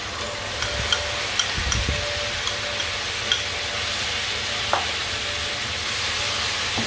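Chili paste and turmeric leaves frying in a pan for Balinese spicy fish, giving a steady close sizzle with occasional faint clicks of a stirring utensil, continuous and even, with no voices.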